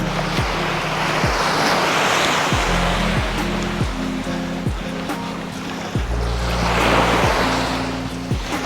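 Ocean waves washing onto a calm beach on Phu Quoc Island, Vietnam: a continuous, fairly loud surf hiss swelling and easing, with soft low thumps recurring every second or so and no talking.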